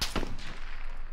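A few sharp, close SKS rifle shots crack in quick succession in the battle royale game PUBG, each with a short echoing tail.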